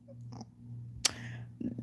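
Cat close by, a low steady purr running under a couple of short sharp sounds and brief meow-like calls.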